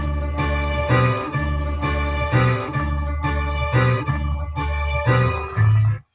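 A looping beat built from chopped sample slices repeats its pattern steadily, with punchy low hits and bright, choppy chords cutting in and out.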